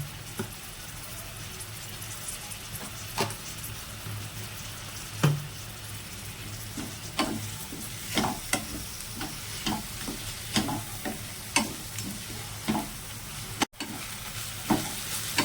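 Tomatoes and salt hit roasting spices in a pan for a green tuver thotha curry, giving a steady close sizzle broken by repeated scraping stirs.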